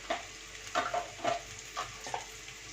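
Urad dal, cumin, curry leaves and dried red chillies crackle in hot oil, with quiet spitting under a series of distinct scraping strokes of a spoon stirring the pan, close and without talk.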